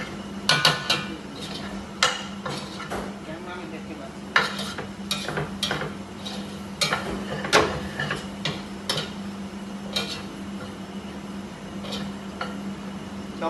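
Chicken sautéing in a pan for chicken mappas, heard as repeated clinks and scrapes of a spoon stirring against the pan over a low, steady sizzle and hum.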